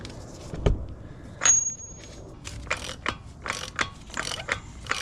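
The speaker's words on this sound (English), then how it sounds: "I loosen the axle nut with a 35mm socket." A ratchet on a 35mm socket works loose the CV axle nut of a 2010 Mazda 6 3.7L FWD, with a metallic knock and several short, close clicking bursts.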